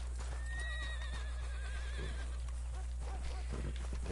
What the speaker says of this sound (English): That horse is a beaut.